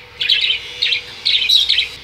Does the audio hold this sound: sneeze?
no